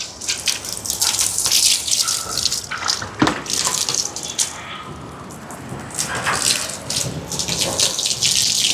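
Tap water gushes steadily into a cooking pot, measuring out water for boiling in a Sri Lankan vegetarian lunch kitchen, with splashing and fluctuating flow throughout and no voices.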